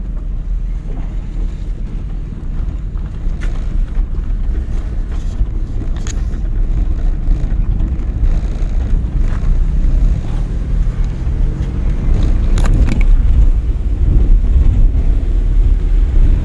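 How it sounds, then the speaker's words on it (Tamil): A car engine drones steadily while driving during a driving lesson, mixed with heavy wind rush and road rumble, loud and continuous throughout. "வண்டி இன்ஜின் சவுண்டு மாறுது இல்லைங்க."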